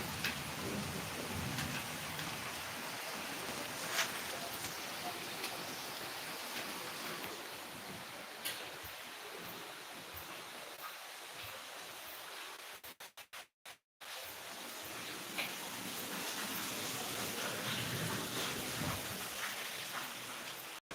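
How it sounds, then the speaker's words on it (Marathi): Heavy rain pours without letup, a dense and even hiss of drops on surfaces that cuts out for a moment partway through before resuming just as strongly. "चांगलाच पाऊस सुरू आहे ना"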